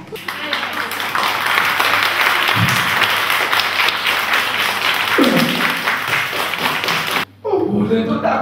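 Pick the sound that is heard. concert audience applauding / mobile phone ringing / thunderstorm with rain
concert audience applauding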